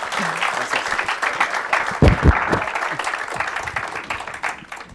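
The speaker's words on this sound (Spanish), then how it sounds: "Felicidades y un fuerte aplauso al doctor" An audience at an academic water seminar breaks into applause for a doctor, a busy spread of clapping with a couple of heavier low thumps partway through, then gradually easing off.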